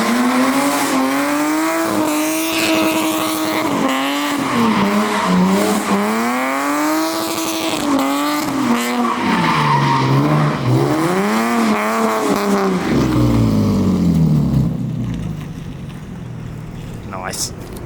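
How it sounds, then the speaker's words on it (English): A lowered Scion FR-S slides with its tires squealing in long wavering tones that rise and dip over a straining engine, close and loud, fading toward the end as the car settles. "Gotta break in the tires real quick"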